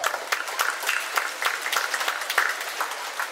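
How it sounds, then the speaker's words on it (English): An audience claps at a school year-end musical show, a short burst of scattered, moderately loud applause with no talking. "give yourselves a round of applause."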